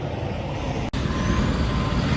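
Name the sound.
tow truck arriving, air brakes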